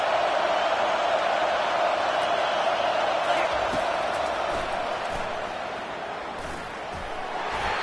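A college football stadium crowd roars steadily during a defensive play, a broad continuous rumble of cheering under a commentator's voice.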